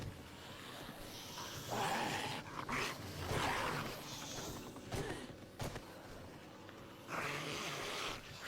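A dog barks in the 7 Days To Die video game on PS5, a few sharp calls standing out over wind and ambient game noise, moderately distant.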